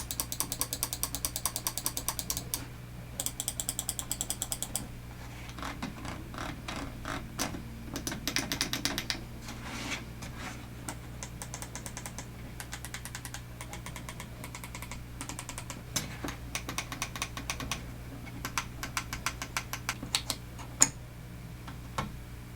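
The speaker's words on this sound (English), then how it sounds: "the clicking experience on this mouse isn't exactly the quietest, but I would say it's not the loudest either" Razer Naga V2 Hyperspeed gaming mouse buttons click up close in quick bursts and scattered runs, crisp and moderately loud, with short pauses between sets of rapid taps.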